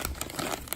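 Plastic packaging around a Fumoto oil pan drain plug is ripped open, producing a short burst of crinkling and tearing plastic, close and fairly quiet, with no talking.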